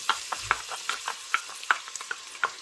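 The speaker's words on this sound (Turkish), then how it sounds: "Soğanımızı bir kavuralım arkadaşlar." Chopped onions frying in oil for ezogelin soup with a soft background sizzle, punctuated by irregular clinks and scrapes of a utensil stirring the pan, close by.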